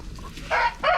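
Roosters and chickens cluck nearby, two short, loud calls close together after a quieter opening moment, with no talking.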